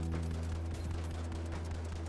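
Rapid automatic gunfire from a light build gun in The Finals, a fast stream of close shots layered over a constant low hum and game background noise.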